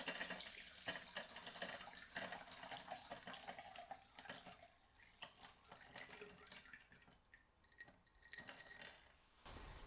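Spiced vodka infusion poured through a strainer in a kitchen, giving a steady close liquid splash and trickle with light glassy clinks that lasts about ten seconds with no talking.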